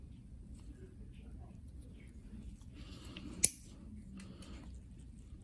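Clippers cut through a thick, layered toenail with one sharp, crisp snip standing out against quiet background murmur and faint speech.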